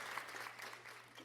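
Accidental burst of recorded applause, a dense steady patter of many clapping hands filling the short moment at moderate level with no one speaking over it.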